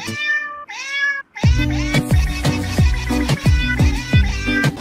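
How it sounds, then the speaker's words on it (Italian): A cat on a balcony meows twice with drawn-out harmonic calls, then a dense run of short, loud meows and cries follows in quick succession, close to the microphone with no talking. "È il micio del balcone."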